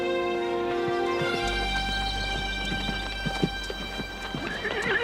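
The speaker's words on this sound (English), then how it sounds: "you got a real smart horse here" A horse whinnies, then hooves clip-clop in an uneven rhythm close by, with scattered knocks and rustles.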